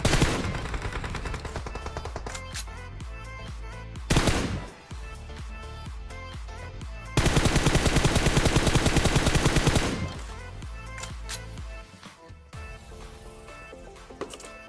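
M249 light machine gun fire in PUBG Mobile, with loud sustained bursts of rapid automatic shots broken by short pauses, plus scattered single cracks and game effects in between.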